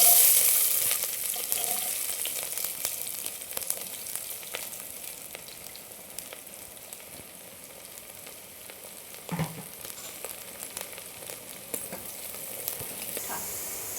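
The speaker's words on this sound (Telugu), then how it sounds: "ఇదిగోండి కుక్కర్లో ఆయిల్ వేసుకున్నాను ఇది వేడెక్కిపోయింది ఇప్పుడు ఇందులో ఉల్లిపాయలు వేసుకుందాం" Onions sizzling and frying in hot oil inside a pressure cooker, a steady crackling hiss with scattered pops, close and continuous throughout with no talking.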